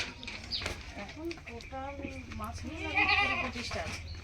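Goats bleat a few times, short wavering cries close by on a goat farm, mixed in with people talking.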